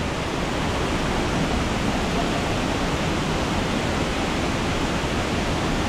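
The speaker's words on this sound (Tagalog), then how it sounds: "Ang lakas ng tubig ngayon." Strong, muddy floodwater rushes past at a river crossing, a dense, unbroken roar of churning water that stays loud and steady throughout with no voices.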